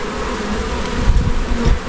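Honeybees buzz around a hive at an apiary, a dense, steady drone of many insects close at hand.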